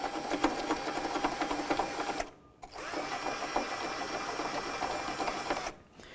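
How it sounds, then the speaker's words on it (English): A bore brush spins inside the bolt holes of a tailgate hinge mount on a 2004-2015 Nissan Titan pickup, giving a steady close-up whirring buzz that cuts out twice briefly before starting again. "I'll continue on with a bore brush. I'll come inside each of my bolt holes."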